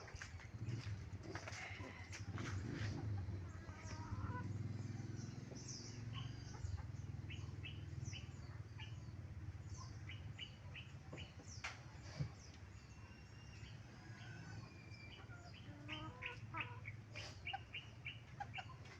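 Chickens cluck and birds chirp faintly outdoors, with scattered short calls over a low background rumble.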